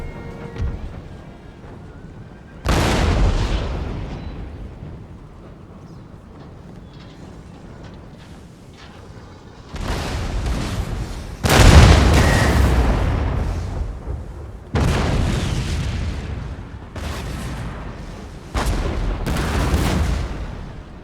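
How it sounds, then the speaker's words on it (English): Cannons fire in a Napoleon: Total War battle during the Austrian campaign: about five heavy, irregularly spaced booms over a rumbling battlefield background, with no talk. "The cannons have started to fire on our light infantry over here."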